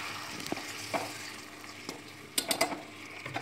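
Spiced potatoes for Bengali aloo dum get stirred in a pan with a little water, a low simmering hiss under several scraping strokes and quick clinks of the utensil, close and fairly quiet.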